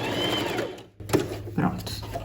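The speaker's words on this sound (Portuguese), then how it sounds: "Vou passar aqui mais uma costura só para arrematar bem" A sewing machine runs a finishing seam joining the main fabric and lining at the neckline of a lined tailored vest, a steady mechanical whir that pauses briefly, then restarts in short stitching bursts up close.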